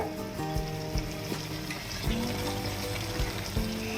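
Hakka veg noodle mixture bubbling and sizzling in a pan, a loud continuous hiss with intermittent clinks and stirring knocks, no talk.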